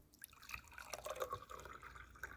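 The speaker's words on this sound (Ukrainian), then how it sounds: "Набираємо склянку воду." Water pours and trickles into a glass for a couple of seconds, a close, steady liquid fill with small splashy drips, no voices.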